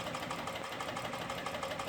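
A Chikon CK-441 leather and webbing sewing machine runs slowly at a very long stitch length, giving a steady close mechanical hum with a fast repetitive knocking pulse, alone without talk.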